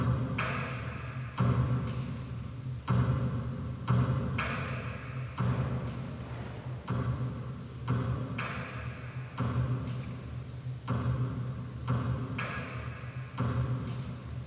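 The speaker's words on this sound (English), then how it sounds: "the feet symbol for the blue color, the clapping for it's green, and in red you have the finger snap sound" A performed rhythm mixes foot stomps, hand claps and finger snaps, sharp percussive hits repeating in a steady looping pattern, close and alone without any voice.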